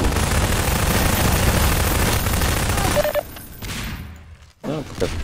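Half-Life 2 Deathmatch gunfire, a loud dense rattle of rapid shots for about three seconds, then dropping off into quieter scattered sounds and a short final burst.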